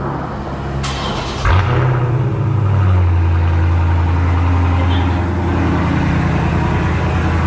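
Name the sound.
Dodge Challenger Scat Pack engine cold start revving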